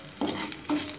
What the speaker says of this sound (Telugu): ఇలా పచ్చడిని మంచిగా కలిపేసుకోవడమే